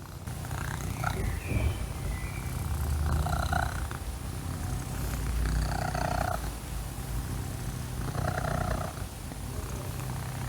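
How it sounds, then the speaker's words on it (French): A cat purrs close up in a quiet room, a steady rumbling purr with rhythmic surges on each breath, rising and falling about every two to three seconds. "Tu ronronnes, mon cœur."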